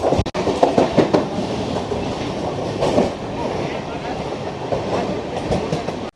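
Uttarbanga Express (13147) train running on rails from Sealdah toward NJP, with a steady, close rumble of wheels and carriage noise and some clickety-clack throughout.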